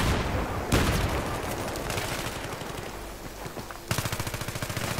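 Automatic gunfire in Battlefield 3, a loud opening burst followed by steady rattling fire, ending in a sharp, rhythmic close-range volley of rapid shots.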